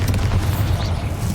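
A Bombarda explosion spell in the video game Hogwarts Legacy lands as a deep, rumbling boom with a heavy low-end roar that sustains through the short moment, loud and close.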